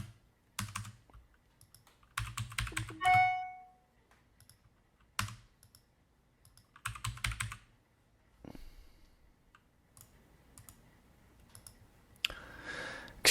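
Clicks of a computer mouse working in Rhino 3D modelling software come in quick clusters separated by quiet gaps, close and crisp, with a brief electronic chirp partway through.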